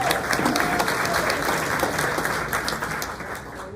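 Audience at a morning chamber of commerce graduation event in Corona breaks into dense, steady clapping that fills the room, tapering slightly near the end, with a faint voice underneath.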